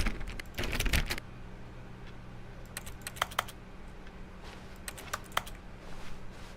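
Bursts of keyboard typing in The Stanley Parable video game: a dense, loud flurry of keystrokes near the start, then sparser clicks and short runs of keys spread over the rest, close and clear above a low steady hum.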